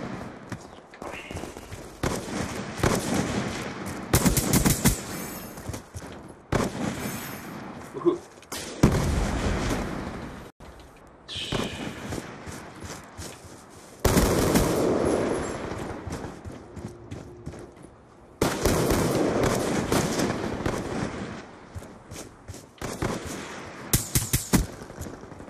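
Suppressed gunfire in a first-person shooter game comes in repeated clusters of muffled, punchy shots across the whole stretch, with brief pauses between bursts and some faint talk.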